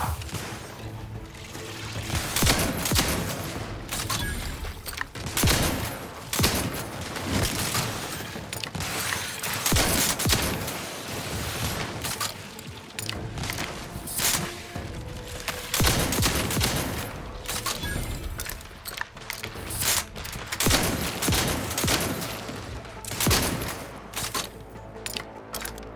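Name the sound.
gunfire in a video game, The Outer Worlds 2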